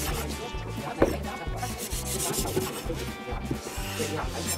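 A knife slices through a rolled-up Zewa paper towel roll after being sharpened on a Horl roller sharpener, giving a steady, close rasping rub with one sharper catch near the start, and no talking.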